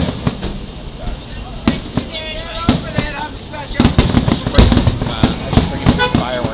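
Fourth of July fireworks go off in a rapid series of sharp, loud bangs and crackling bursts, close by and irregular, with people talking underneath.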